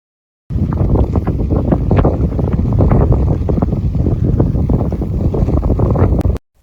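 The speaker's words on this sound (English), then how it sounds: "we experienced sustained headwind speeds of 20+ miles per hour and gusts almost 40 miles per hour" Loud, steady headwind of 20+ mph with gusts near 40 mph on the Nebraska Cowboy Trail roars across the microphone without a break, a heavy low rumble with constant gusty turbulence.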